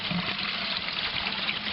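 Water churned by a motor in a sewage aeration tank, a loud, dense, continuous rushing and splashing wash that holds steady throughout with no talk.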